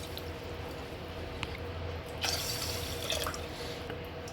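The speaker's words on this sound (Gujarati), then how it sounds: "એમાં 2 ગ્લાસ પાણી નાખીશું" Water poured into a pressure cooker holding moth beans, a steady low trickle and splash that swells midway, with faint dripping and no voices.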